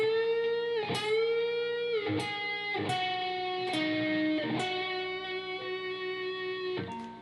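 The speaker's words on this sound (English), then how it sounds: "So part 6 of our solo here played together in slow will sound like this." Slow electric guitar solo phrase, Texas blues lead played at reduced tempo: a string of sustained, distinct notes with bends and vibrato, each attack ringing clearly, close and steady throughout.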